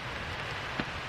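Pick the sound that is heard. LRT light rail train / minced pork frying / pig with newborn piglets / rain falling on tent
rain falling on tent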